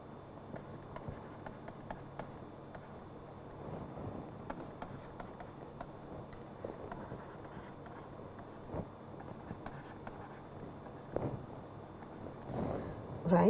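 Writing on a board during a lecture on turbulence modelling, with faint scratchy strokes and taps coming in short irregular bursts, quiet and close, while a voice speaks intermittently.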